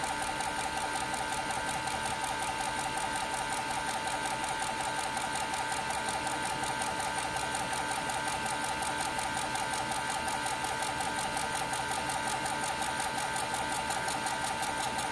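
A DAJA D4 laser engraver fitted with a rotary axis engraves a cylinder, giving a steady, continuous mechanical whir with a fine rapid pulsing texture, moderately faint and unbroken, with no talking.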